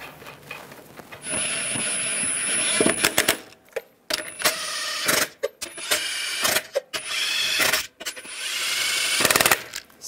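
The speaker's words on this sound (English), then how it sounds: "Put the lug nuts on." Lug nuts being threaded and set onto a 2011-2018 Ram 1500 front wheel make bursts of close metallic clinking and rattling, broken by short pauses, with no talk.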